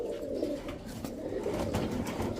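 A female pigeon coos softly in low, rolling throaty bursts, repeating close by with no talking.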